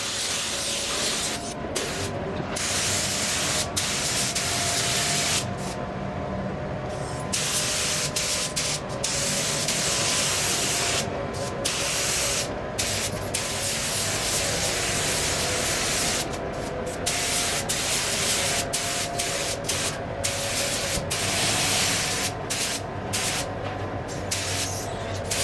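A spray gun lays red paint onto Mercedes SL600 parts in a steady loud hiss, broken by short gaps as the trigger releases between passes, close up and without talk.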